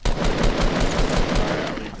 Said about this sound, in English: And I'm getting shot at from the other side.